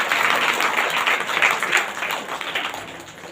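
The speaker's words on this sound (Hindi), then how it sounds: "बहन परमेश्वर को जोरदार तालियों का धन्यवाद देती है" A church congregation gives a thanksgiving round of loud applause, dense clapping that swells and then gradually fades over a few seconds.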